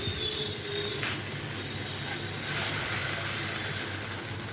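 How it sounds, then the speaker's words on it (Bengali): Spice paste of ginger, cumin and green chilli with turmeric and sugar frying in a pan, giving a faint, steady low sizzle with no talking. "এটাকে এখন একটু ভাজা ভাজা করবো"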